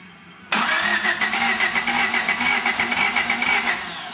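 A Honda CRX engine cranks briefly and then catches, settling into a steady, loud idle with a rhythmic pulsing throb; no voices are heard.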